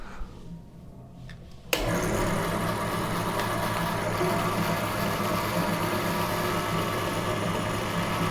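An HNL 13mm bench drill press starts with a sudden onset and then runs at its lowest RPM setting as a steady, even motor hum with a mild mechanical rattle, close and moderately loud.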